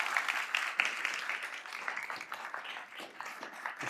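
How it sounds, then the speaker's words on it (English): An audience applauds panelists at an academic talk, a fairly quiet, steady patter of many hands clapping, slightly distant. "Let's have a round of applause for our panelists"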